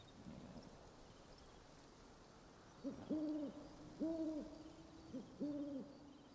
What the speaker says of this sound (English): And like just now we heard that owl.